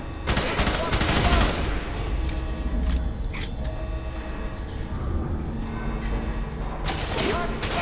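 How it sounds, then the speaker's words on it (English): Rapid gunfire bursts in the shooter game FEAR 3, loud and sustained with dense, repeated cracks over mechanical background noise for most of the stretch, with a voice talking in places. "Where are you shooting me from?"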